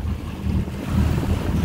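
Ocean waves wash and slap around a sailboat at sea, a steady rumbling surge with heavy wind buffeting the microphone, swelling louder in the second half.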